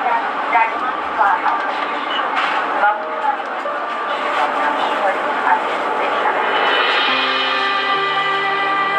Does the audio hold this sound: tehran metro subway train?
yes